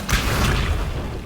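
Hogwarts Legacy's Incendio fire spell goes off as a loud, short whooshing fiery burst with a deep boom that fades over about a second.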